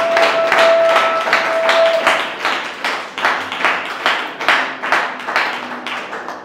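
A church congregation claps together in steady, rhythmic applause, loud and close, with the beats gradually softening toward the end; no one speaks.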